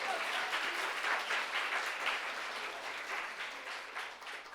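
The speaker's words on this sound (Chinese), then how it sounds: "给他们掌声哦！" A church congregation applauding, dense steady clapping at moderate distance that holds for several seconds and eases slightly toward the end.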